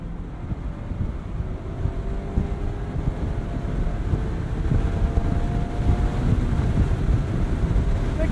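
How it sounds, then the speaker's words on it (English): A 2023 Mazda MX-5 Miata with a manual gearbox drives along, its engine a steady, close droning hum blended with road and wind rumble heard from inside the car, with no talk. "the engine is churning and making noise"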